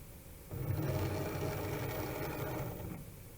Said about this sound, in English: Now the machine is measuring to make sure that I have just the right amount of material for this project.